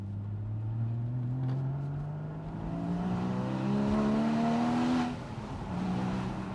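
A Porsche Boxster engine revs up through rising tones, loud and close, with a brief lift-off before pulling again.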